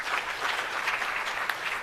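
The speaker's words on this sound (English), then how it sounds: "Let's give him another big round of applause." Brief burst of crowd applause at a launch event for 4IR centres of excellence, a dense even patter of many hands at moderate volume with no talking.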